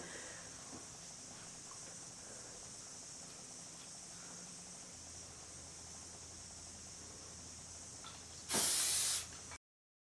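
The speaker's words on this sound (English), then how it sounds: "I just use a small amount of hairspray as I'm working" Hairspray comes from a can in one short, bright, close hiss lasting about a second while hair from a bendy roller set is brushed out, over quiet room noise.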